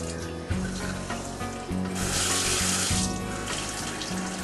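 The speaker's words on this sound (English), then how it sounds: "Okay, all the faucets are on." Several faucets in mobile home plumbing with plastic hoses and valves run at once, a steady broad rush of water into sinks that swells slightly midway and holds without pause, close and alone.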